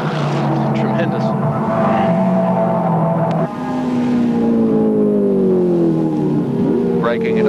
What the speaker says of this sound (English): Grice comes under the Hardie's Bridge. Oh, very sideways that time.